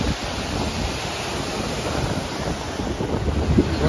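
Stormy sea waves washing up onto a beach, a loud continuous rushing surge mixed with heavy wind buffeting the microphone, swelling slightly toward the end.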